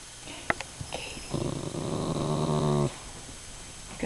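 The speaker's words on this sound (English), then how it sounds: "You gonna growl for us?" Dog growling at close range indoors in a house full of dogs, a low continuous rumbling growl lasting about a second and a half, preceded by a few soft clicks and rustles, no talk.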